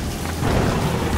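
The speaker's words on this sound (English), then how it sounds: "Can't stay out here in this rain for long." Heavy rain pours down in a dense, steady hiss with a deep rumbling underneath.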